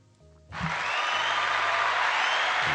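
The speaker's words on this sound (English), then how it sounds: "I think everybody deserves a round of applause, right?" Sudden burst of applause from a crowd, starting after a brief quiet moment and continuing steadily, loud and dense with many hands clapping.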